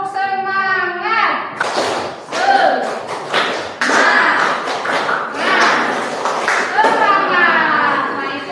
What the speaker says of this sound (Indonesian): Tepuk semangatnya ayo, tepuk semangat.